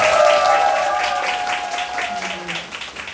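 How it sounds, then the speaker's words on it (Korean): Crowd at a small Hongdae club concert for an album release show clapping for a performer, a short steady round of applause with a faint tone ringing underneath. "저희 혜지 많은 박수 부탁드립니다"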